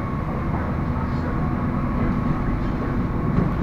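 Train rumbling past at Solo Balapan railway station, a loud, continuous low roar with a steady hum that holds for the whole stretch, close by.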